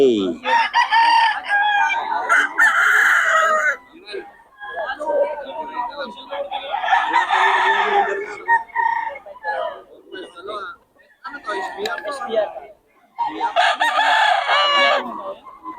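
Roosters of Boston Roundhead and other gamefowl breeds crowing loudly and repeatedly at a market in Bocaue, with clucking and someone talking over the birds.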